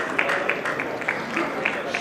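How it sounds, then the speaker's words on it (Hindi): Audience in a hall clapping, a soft, fairly quiet patter of many hands with sharper individual claps, continuous and with no voices over it. "एक बार चाहूंगा कि आप जोरदार तालियों से पूरे हाल को बुझाएं।"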